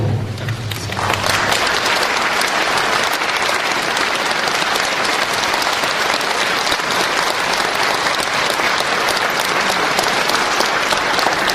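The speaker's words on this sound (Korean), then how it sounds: "큰 박수로 부탁드리겠습니다." A large church audience at a Lenten lecture bursts into sustained, dense applause after a brief low hum, the clapping loud and steady throughout.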